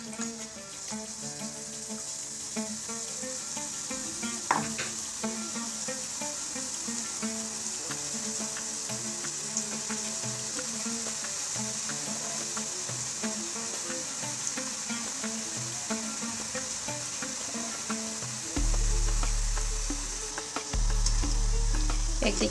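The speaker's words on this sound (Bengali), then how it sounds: "এভাবে সবগুলো বুন্দিয়া আমি ভেজে নিচ্ছি।" Gram-flour bundia drops fry in a pan of oil with a steady, even sizzle that holds throughout, broken near the end by a couple of low thumps close by.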